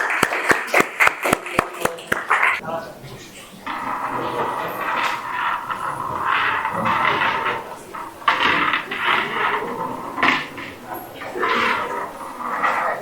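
A group of people gives a burst of hand clapping, sharp close claps for about two seconds, then fades into room chatter and talking.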